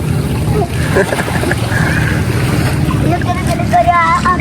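Racing motorboat engines drone steadily at sea with wind buffeting the microphone, while people talk over the noise.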